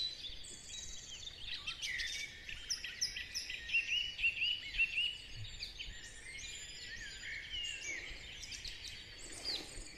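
Dawn chorus in a natural outdoor setting, many birds singing and chirping at once, overlapping trills and tweets at moderate distance against a soft background hiss, with no voices.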